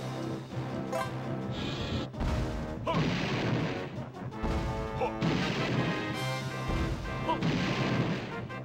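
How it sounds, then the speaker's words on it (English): Repeated heavy booming blasts of a mortar cannon in Banjo-Tooie's boss rush, loud explosive impacts recurring every second or so over a dense, continuous layer of game music and noise. "Activate the mortar cannon."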